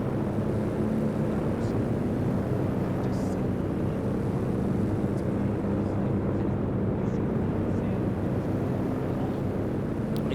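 Warplanes drone over a Company of Heroes 2 battlefield as a steady, low engine roar that holds constant throughout, with a few faint clicks on top.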